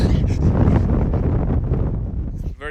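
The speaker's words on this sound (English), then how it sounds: "But it's very windy up here" Heavy wind blasting against the microphone on a hilltop in northeast England, a loud low rumbling roar that dips briefly near the end, with a faint voice at the close.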